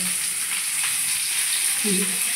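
Pieces of catla fish fry in hot oil, giving a steady, even sizzling hiss close by, with a faint low murmur briefly underneath.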